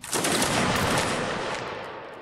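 A volley of muskets fired by a line of infantry in a Napoleonic Wars battle game, a dense rolling crackle of many shots merging into one roar that tails off over two seconds.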